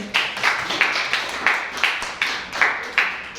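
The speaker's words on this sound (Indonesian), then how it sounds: "Beri tepuk tangan terlebih dahulu dong." Rhythmic group clapping after a student association candidate debate on a campus, evenly spaced claps in a steady beat, moderately loud and close.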